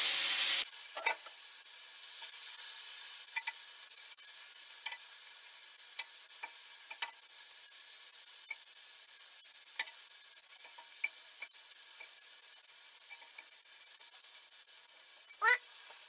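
Beef sizzles in a hot frying pan with a steady, close hiss, punctuated by occasional sharp pops and brief stirring scrapes.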